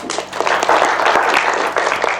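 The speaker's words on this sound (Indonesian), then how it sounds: "Tepuk tangan buat Mas Lintang." Loud applause from a classroom group, close and dense bursts of clapping filling the room for a couple of seconds with a faint murmur of voices beneath.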